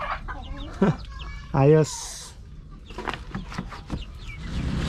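Hens on a farmyard cluck and squawk near the microphone, with one loud burst of clucking, while someone talks quietly between the bird calls.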